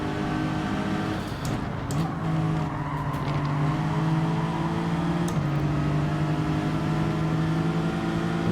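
Race cars in Gran Turismo 7 drone steadily throughout, layered engine tones holding pitch with a shift partway, brief tire scrubs near the start, loud and continuous with no talk.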